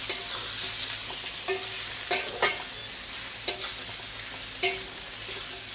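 Potatoes and eggplant fry in oil with a bright constant sizzle, broken by several sharp scrapes and taps of a spatula stirring the pan at close range.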